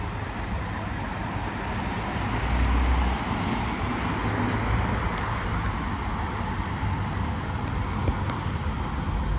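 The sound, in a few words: SUV driving past on the road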